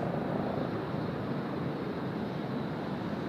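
A heavy jet airliner taking off at Sydney Airport, its broad, steady roar filling the air, a dense low rumble from a distance with no voices.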